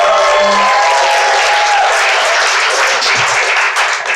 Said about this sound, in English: Make some noise for Valor!